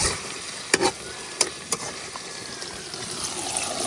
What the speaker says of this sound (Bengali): এখন আমি একটু জল দিয়ে দেন